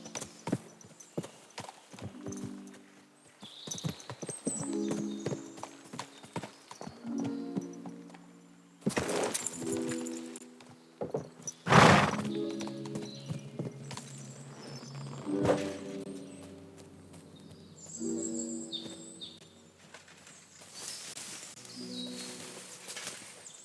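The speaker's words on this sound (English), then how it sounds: "What's it doing here in the woods?" A black horse in the Kingdom Come: Deliverance 2 woods clip-clops in irregular bursts of hoofbeats, near and fairly loud, with a snort or whinny and faint birdsong in the background.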